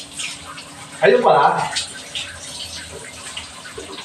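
A newly installed shower turned on, water spraying and splashing steadily close by under a voice talking, with a short louder gush in the middle.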